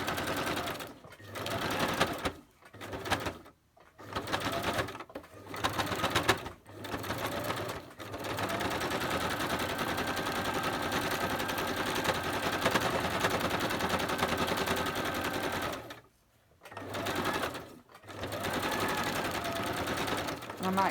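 A sewing machine stitches paper snippets for a junk journal, running in fast continuous bursts separated by short pauses with one long steady run in the middle, close and clear, with a voice talking at times.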